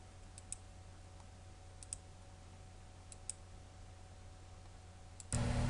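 Faint computer mouse clicks while working in Flash animation software, a few sparse single and double clicks over a steady low hum, ending in a sudden burst of louder noise.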